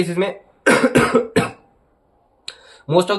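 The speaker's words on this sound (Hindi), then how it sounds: "खांसी आ गई थी" Several short bursts of coughing, loud and close, separated by brief pauses, with a few more coughs at the end.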